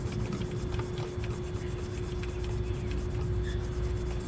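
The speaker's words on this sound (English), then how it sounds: "You can even try using a Scotch-Brite." A Scotch-Brite pad scrubs the oil filter housing surface on a BMW N20 2.0L turbo engine, giving a close, continuous rapid rubbing scratch with a steady background hum and no talking.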